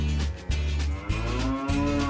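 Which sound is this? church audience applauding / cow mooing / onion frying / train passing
cow mooing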